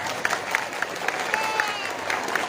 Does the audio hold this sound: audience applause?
yes